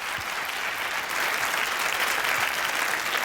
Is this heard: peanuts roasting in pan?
no